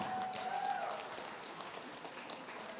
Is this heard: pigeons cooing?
no